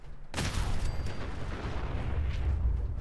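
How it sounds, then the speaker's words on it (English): A massive in-game explosion from the video game Fallout 4 erupts suddenly as a loud, deep boom, then keeps rumbling for several seconds without any speech over it. "It's that big of an explosion, I guess."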